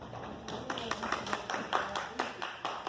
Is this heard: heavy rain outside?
no